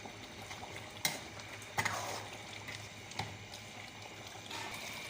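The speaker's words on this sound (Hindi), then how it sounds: "ये मिर्च इसके अंदर ऐड कर देंगे और इसको तेज़ आंच में 5 मिनट तक पकाएंगे" A large batch of chicken karahi with green chillies cooks on a high flame, giving a steady, dense sizzle and bubbling broken by occasional sharp clicks and pops.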